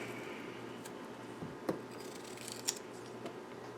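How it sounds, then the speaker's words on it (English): An Asian pear being cut and cored with a knife, giving a few quiet, brief crisp snips and clicks against soft background noise, close by and without speech. "So I cut the apple like this, and I take the core out."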